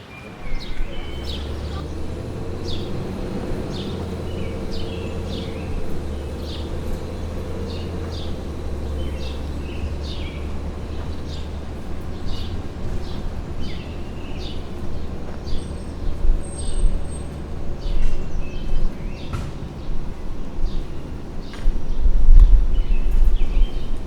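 Faint bird chirps and calls scattered through woods over a steady low rumble of outdoor ambience, with the background swelling slightly toward the end.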